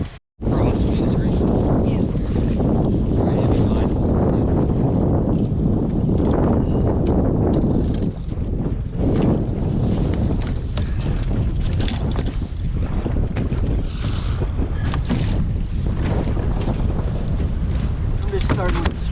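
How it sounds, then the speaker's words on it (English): Strong, gusting wind during a cold front buffets the microphone on a fishing dock, a loud, continuous roar with surges that runs the whole time and only briefly drops. "It's windy, it's cold."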